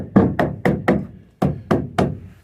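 Eight sharp, evenly spaced hammer blows drive a wooden spacer block into door framing, each a solid resonant knock close to the listener, with a brief pause after the fourth strike.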